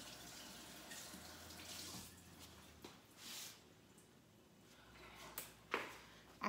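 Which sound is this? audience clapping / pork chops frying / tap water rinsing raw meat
tap water rinsing raw meat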